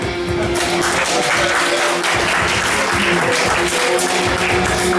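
An audience at a climbing competition claps loudly and continuously, a dense steady patter with a faint tonal hum underneath.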